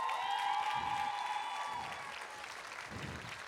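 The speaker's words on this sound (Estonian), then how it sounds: "veel üks suur aplaus Egertile" Applause fills a school spring concert hall in Paide, steady and fairly loud at first and then slowly tapering as the crowd keeps clapping with no voices on top.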